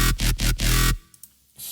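Serum synth bass with its filter switched off, a bright harsh buzz pulsing in four loud chopped bursts before cutting to quiet, scattered noise and a short swell at the end.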